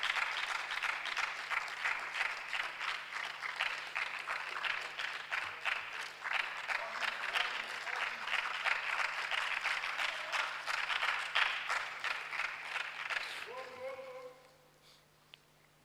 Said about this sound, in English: So please, with a round of applause, join me to welcome the contestants from Wisconsin International University College.